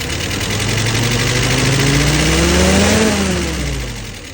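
Car engine with a freshly tuned carburetor, fuel pressure and vacuum at spec, revving up smoothly and steadily without stumbling, then dropping back; loud and close, no talk.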